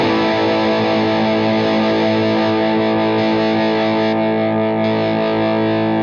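Mini guitar amp run with heavy distortion and its gain cut switch: a loud, sustained, saturated chord rings out alone, thick and buzzing, slowly decaying with a slight shift in tone near the end.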